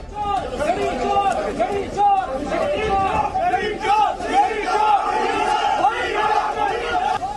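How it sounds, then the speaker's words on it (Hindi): A dense crowd shouts and chants slogans against Imran Khan as he is surrounded by a group including lawyers. Loud, continuous massed voices overlap throughout with rhythmic surges and no break. "भीड़ ने उनके खिलाफ घड़ी चोर के नारे लगाए"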